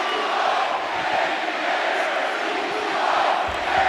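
Large wrestling crowd at Desert Diamond Arena in Glendale, outside Phoenix, roaring in a dense, unbroken wash of cheers and shouts, loud and sustained with slight swells, no clear individual voices standing out.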